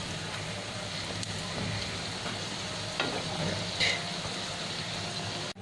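Chinese-style paratha sizzles steadily in a hot pan right after being flipped, a constant close frying hiss with faint pops and a soft clink of a utensil.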